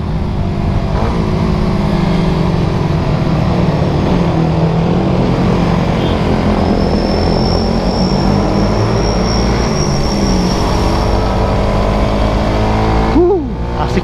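A Suzuki Satria FU fuel-injected motorcycle engine drones steadily while being ridden, loud and close with a constant rumble mixed with wind roar for the whole stretch.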